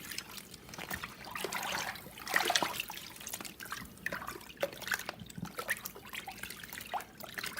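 Animal pelts, a gray fox and a squirrel, are rinsed in a tub of water during tanning, giving soft irregular splashing and trickling close by with no talk.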